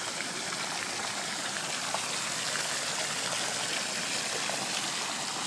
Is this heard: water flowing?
yes